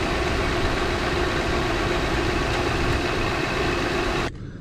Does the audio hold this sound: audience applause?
no